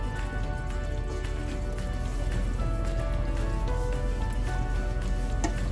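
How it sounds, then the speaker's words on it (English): Fish pieces go into a simmering pot of spicy Andhra fish curry, a dense, loud bubbling and sizzling wash with soft squishy plops scattered through it; no talking. "I'm now going to add the fish pieces."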